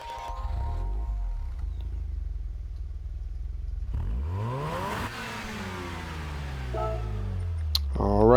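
A 1990 Mazda RX-7 GT-X (FC) rotary engine in Gran Turismo 7 cranks and fires up, settling into a steady low idle before a couple of rising revs near the end.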